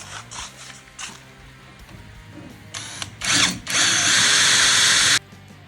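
A power drill bores 6 mm holes into a window sash, with short bursts of whirring followed by a longer, loud sustained run that cuts off abruptly, heard up close with no talking.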